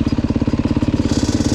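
A motorcycle engine runs close by during wheelie riding practice, its rapid, even putter pulsing steadily with no break.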